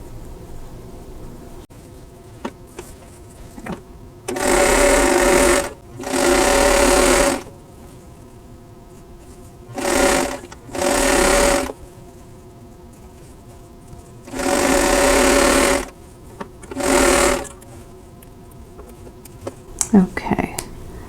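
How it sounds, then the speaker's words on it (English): A sewing machine stitches quilt block seams in six separate bursts, each a second or two long, with quiet pauses and soft handling noises between runs. "So I'm going to sew all of those together"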